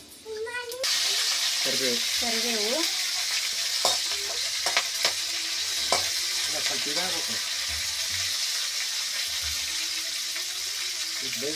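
Mustard seeds, curry leaves and garlic crackle and sizzle steadily in hot oil, a loud, dense frying hiss with scattered pops, while a person speaks over it intermittently.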